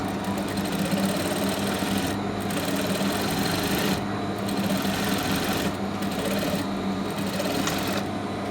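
Sewing machine running steadily while stitching a garment placket, a continuous loud whirring drone with a few brief pauses, close to the mic and without talk.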